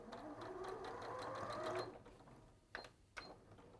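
A domestic sewing machine runs a short burst of rapid stitching as it reverses to lock the seam end on a top, then stops and leaves a couple of faint clicks; fairly quiet with no talk.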